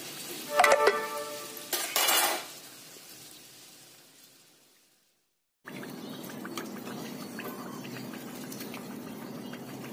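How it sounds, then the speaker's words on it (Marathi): Coconut barfi karanji deep-fried in oil over a medium flame, with a few loud clinks and scrapes at first, then a brief silence, followed by a steady, close bubbling fry with faint crackles. "मध्यम गॅसवरती दोन्ही बाजू छान तळून घ्यायचंय."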